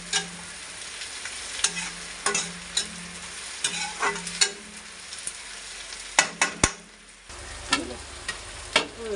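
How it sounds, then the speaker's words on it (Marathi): Chopped onion frying in a pan over a low gas flame for kande pohe, with a steady soft sizzle broken by repeated scraping stirs and a few sharp utensil clicks, close and without talk. "थोडं 2 मिनिट स्लो गॅसवर हे बघा, कांदा फ्राय होत आहे"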